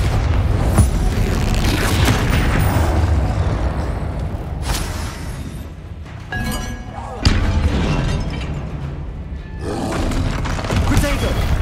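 Confringo and Bombarda spell blasts from the Hogwarts Legacy video game, booming and roaring in repeated loud bursts across a dense, rumbling game soundscape with voices mixed in.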